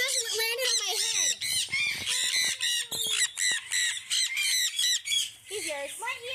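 A parrot perched on someone's head squawks loudly and repeatedly at close range, harsh rising calls in a near-continuous run with brief gaps.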